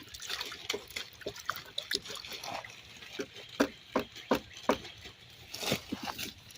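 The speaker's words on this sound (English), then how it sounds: "I'm stirring up my fish emulsion and a little bit of Epsom salt." A liquid mix of fish emulsion fertilizer and Epsom salt being stirred, with soft sloshing and trickling and a run of rhythmic liquid knocks, close and fairly quiet outdoors in a garden.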